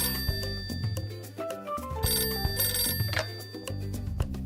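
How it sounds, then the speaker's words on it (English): A telephone rings in a live-action children's show, a bright electronic ringtone repeating in short bursts over a steady background of music, with no voices. "Hello, Faye and Fluffy's fabulous friend phone line."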